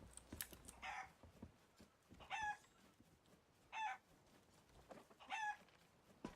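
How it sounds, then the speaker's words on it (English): A chicken in Sea of Thieves clucks in four distinct, evenly spaced bursts of agitated squawking, fairly close, with computer keyboard typing clicking in the background. "Chicken's probably all angry that I keep moving it around."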